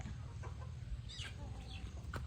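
A chicken clucks several times at a farm with young cattle, short close calls standing out over a steady low background rumble.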